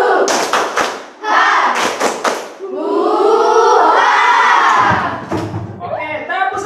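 An audience does the tepuk hore clapping routine: bursts of rhythmic group claps and thumps alternate with loud shouted crowd chanting, with a leader's voice calling along.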